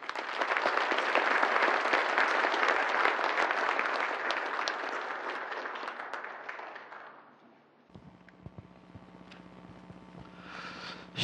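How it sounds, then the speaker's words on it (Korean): Large audience of about 1,200 business people at a Hyatt hotel lecture applauding loudly to welcome an author onto the stage, dense sustained clapping that fades out partway, followed by quieter room sounds. "그럼 홍하상 작가님을 큰 박수로 모시겠습니다."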